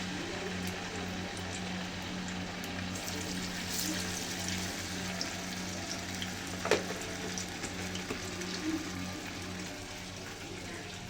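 Fish frying in a pan in a home kitchen, a steady hiss and crackle of hot oil running continuously at moderate level, with a few sharper pops and faint background noise.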